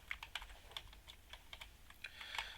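Typing on a computer keyboard while entering code, a steady run of quick, light key clicks at close range over a faint background hum, no voices.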